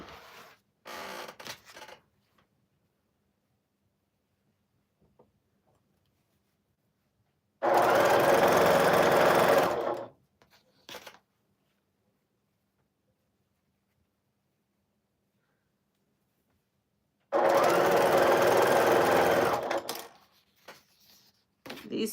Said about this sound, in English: now we are going to sew these right up